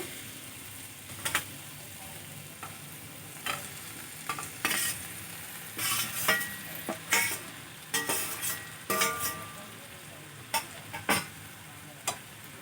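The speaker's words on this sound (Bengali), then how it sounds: "এখন আমি ভেন্ডি, আলু আর ডিম একসাথে দিয়ে দেব।" Okra, potato and egg are stirred and fried together in a pan with tomato and onion, giving a steady sizzle broken by repeated scraping and clattering strokes of a spatula, close and fairly quiet, with no talking.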